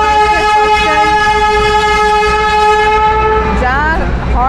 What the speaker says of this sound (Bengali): যা হর্ন দিচ্ছে মানে কানে তালা লাগার মতো।